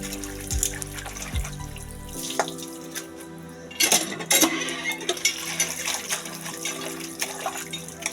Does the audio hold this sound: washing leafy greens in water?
yes